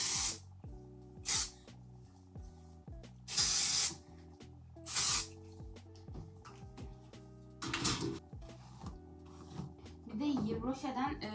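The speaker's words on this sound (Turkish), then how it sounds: "Roche'den şu saç spreyini almıştım" Several short, loud bursts of hair spray from an aerosol can, each lasting under a second, separated by pauses with quiet music and sounds of handling in between.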